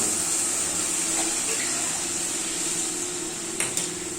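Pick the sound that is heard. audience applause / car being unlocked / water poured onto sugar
water poured onto sugar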